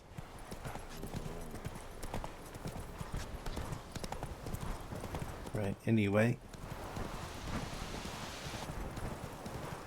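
Horse hooves clip-clop steadily across ground in The Witcher 3, with a brief whinny partway through and someone talking over the hoofbeats.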